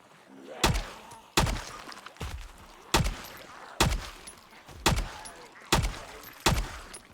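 Gunfire in the video game Project Zomboid: seven or eight loud, sharp shots spaced roughly evenly, each with a short ringing tail, standing alone over a low background.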